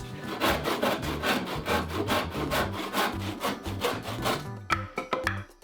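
A hand saw cuts through wood in steady, rhythmic back-and-forth strokes, close and fairly loud, with a few slower final strokes and a bump as the cut finishes.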